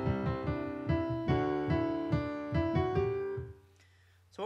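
A bright piano riff repeats a rhythmic chord pattern with steady accented stabs, then ends on a sustained low note before a brief rustle.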